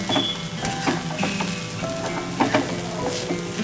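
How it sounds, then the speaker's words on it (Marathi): Peanut powder being stirred into onion chutney in a pan: a steady soft sizzle with scraping stirring strokes and a few clinks close by. "आता आपण हा कूट देखील यामध्ये व्यवस्थित असा मिक्स करून घ्यायचा आहे"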